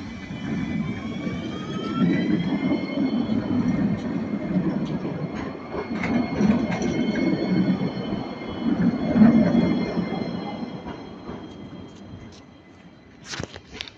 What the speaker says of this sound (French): il y a le tram là qui va justement s'aiguiller sur cette voie comme d'habitude et venir ici